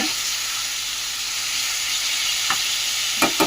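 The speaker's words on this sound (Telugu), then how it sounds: "పచ్చిమిర్చి వేగిన తర్వాత అయితే చికెన్ అయితే వేస్తాను కొంచెం పసుపు వేసి" Chicken pieces fry with green chillies and turmeric in a hot pan, giving a loud, unbroken sizzle and hiss close by, with a few sharp utensil taps near the end.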